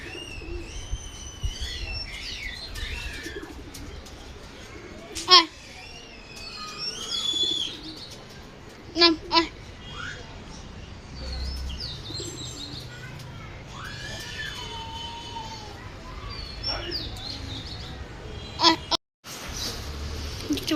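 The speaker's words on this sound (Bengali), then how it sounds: "এখন একটা করে কবুতর নামতে পারে" Pigeons coo and flutter nearby in a rural village setting, with chirping birds and a few sharp wing claps or knocks over a low outdoor background.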